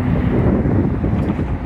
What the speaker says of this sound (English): it is very windy out today